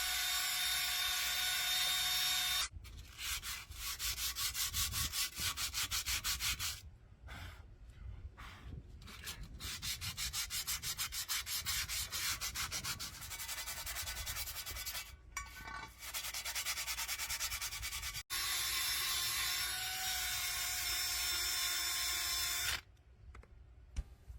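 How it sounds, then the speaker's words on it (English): A power drill whines steadily with a harsh, gritty scraping as a spinning wire wheel grinds rust off metal, pausing briefly a few times before starting up again. "a wire wheel on a power drill will suffice to take care of this part of the project"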